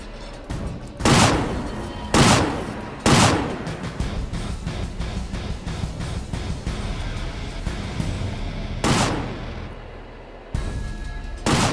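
Heavy gunshots in a video game boom out one at a time at irregular intervals, about five loud, thumping reports with a low rumble filling the gaps between them.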